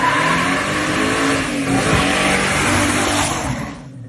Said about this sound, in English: the Hemi Challenger wasn't just fast, it was an absolute powerhouse on the streets and the strip